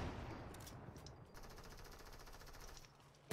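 Rapid bursts of video game gunfire aimed at a wall, a dense crackling volley running steadily for a few seconds before cutting off, with a sharp crack at the very end.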